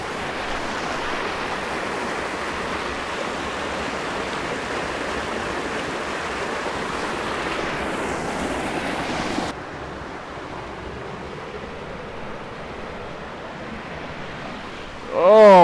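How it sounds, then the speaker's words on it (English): Loud, steady rush of a waterfall and stream close by in a canyon, softening partway through before a brief louder burst at the end. "the water is pretty loud"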